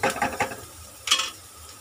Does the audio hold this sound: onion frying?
yes